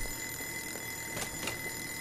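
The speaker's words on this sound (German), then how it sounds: "Wer stellt um die Uhrzeit so einen Wecker?" An alarm clock rings in the PS4 cooking game Joe's Diner, a continuous high electronic tone that stays loud and steady throughout, with faint clatter underneath and no talk.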